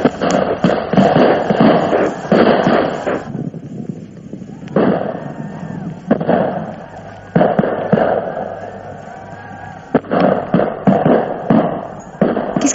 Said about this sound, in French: Qu'est-ce que ça veut dire, cette fusillade, Fulbert?